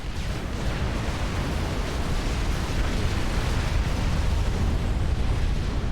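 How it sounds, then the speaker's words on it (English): A nuclear strike lands on a base in the strategy game Supreme Commander, a massive roaring blast that rumbles on as a loud, sustained wall of explosive noise for several seconds. "This nuke, though, is going to land"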